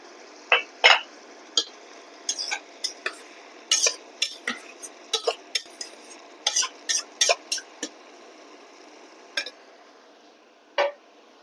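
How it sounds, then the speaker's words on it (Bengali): Fried shrimp stirred into bitter gourd and potato in a pan, with a quick series of sharp utensil scrapes and clinks against the pan, close and fairly loud, thinning out toward the end. "উচ্ছে এখনো ভালোভাবে সিদ্ধ হয়নি এ অবস্থায় আমি ভেজে রাখা চিংড়ি মাছগুলো দিয়ে দিলাম"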